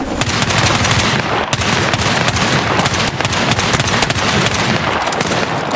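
Dense, continuous automatic gunfire in the video game Battlefield 6, loud rapid bursts overlapping with sharp single shots in a chaotic firefight, with no pauses.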